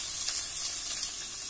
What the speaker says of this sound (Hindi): इन सब चीजों को अच्छे से भून लेंगे